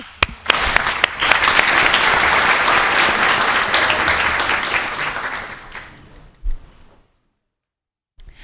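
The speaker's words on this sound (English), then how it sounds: "I think you all deserve a round of applause." An audience claps loudly and steadily for several seconds, then the applause fades out into silence.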